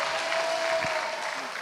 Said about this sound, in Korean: 하나님께 영광의 박수를 보내드립시다.